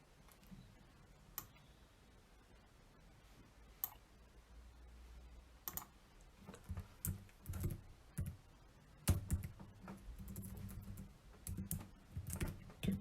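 Keys on a computer keyboard are typed, starting with sparse isolated clicks and building into quick clustered bursts of tapping, close and fairly quiet.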